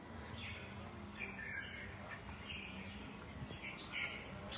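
Kept songbirds chirp faintly in scattered short calls over a low steady background hum, fairly distant and soft.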